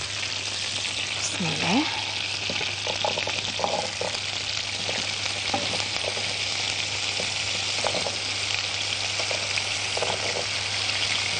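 Potatoes sautéing in two spoonfuls of oil in a pan for a potato omelette, a steady close sizzle with stirring scrapes throughout, and a brief spoken phrase near the start.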